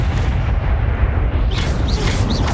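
Explosion from the Confringo spell in Hogwarts Legacy: a dense, booming, artillery-like burst that fills the clip loudly. Higher whooshing magical tones rise near the end.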